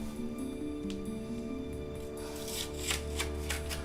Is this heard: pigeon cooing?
no